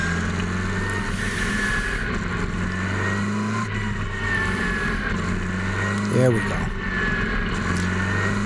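A NEMA Lite race car with a Ford Focus engine runs at steady high revs, its droning engine tone holding throughout, with a brief voice cutting in near the end.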